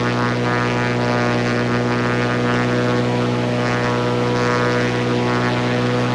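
A propeller aircraft engine in a flight simulator game drones steadily and evenly, loud and unchanging throughout with no talk.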